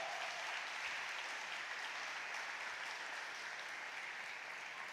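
Steady applause from a crowd, a dense even patter of clapping that holds at the same level throughout.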